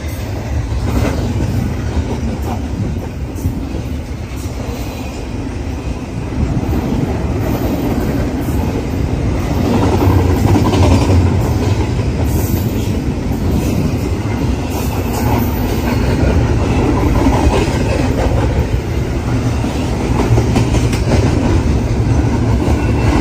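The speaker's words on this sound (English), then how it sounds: "And this looks like it's a port container train." CN port container train rolling past at Fullerton, a loud, steady rumble with rhythmic clickety-clack of wheels on rail joints and intermittent high wheel squeal, growing slightly louder midway and continuing throughout; no speech.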